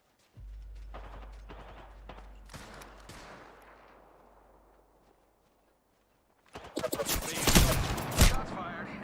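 Video game gunfire, starting with a low rumble and scattered clicks, then a loud, dense burst of rapid shots near the end, close and harsh, with no voices over it.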